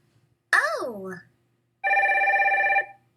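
A telephone bell rings in one bright, steady burst lasting about a second, after a short spoken phrase in a children's phonics lesson.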